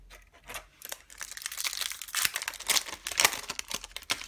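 The foil wrapper of a Yu-Gi-Oh! booster pack crinkles and tears open close up, with crisp rustling bursts growing louder over a few seconds and no talking.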